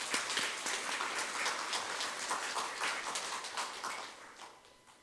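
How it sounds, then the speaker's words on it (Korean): A church congregation claps steadily in a dense patter of applause during an evening worship service, heard at a distance, which fades toward the end. "우리 하나님 감사의 박수를 다시 한번 쳐야 되겠습니다."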